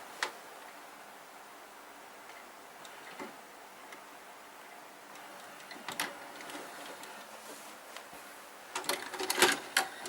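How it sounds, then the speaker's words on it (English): A VHS tape rewinds in a VCR with a faint, steady mechanical whir, broken by clicks and clunks of the machine that grow louder and more clustered toward the end. "I've got to make sure that the tape is literally rewound all the way back."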